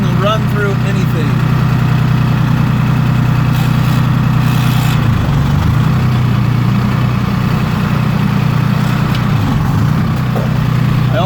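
A two-stroke diesel Toyota engine idles just after a cold start, a steady, loud, low chugging drone with a rough, tractor-like rumble that runs without a break.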